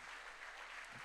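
Church congregation applauding during a Sunday service, a soft, steady wash of hand claps that sounds distant and faint, with no voices over it.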